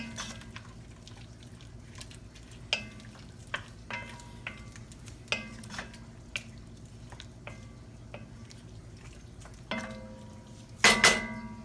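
Garlic sizzles in a hot pot with seared beef for an old-school beef stew: a steady low frying hiss with scattered stirring clinks and scrapes, and a louder clatter near the end.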